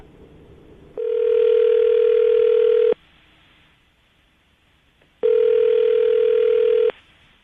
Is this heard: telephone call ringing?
yes